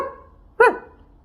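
A single sharp dog bark, imitated by a human voice, pops out loud and close after near silence, rising and falling quickly in one burst.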